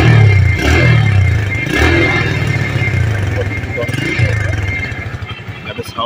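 A second-hand TVS Metro Plus 110cc motorcycle engine runs with a steady, low, throbbing rumble, close by, while someone talks over it.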